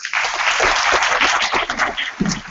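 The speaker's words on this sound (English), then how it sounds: "can I get a round of applause for everyone for this?" A short burst of clapping from a group at a startup demo day, dense and steady throughout, with no talking.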